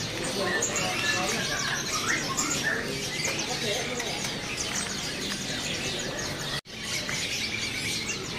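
Busy chirping and trilling birdsong from several canaries, including a bright-yellow variety, fills the air continuously with some background chatter and a brief cutout near the end.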